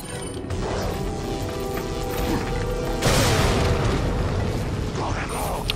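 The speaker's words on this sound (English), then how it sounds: "I wonder if we could just explode them all." A loud explosion bursts in Resident Evil 4 amid dense, crashing game noise, with a sharp surge partway through and rattling debris after, under occasional talk.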